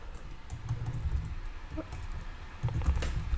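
Rapid clicking keystrokes on a computer keyboard while code is typed, a steady close patter with a few louder bursts and no talking.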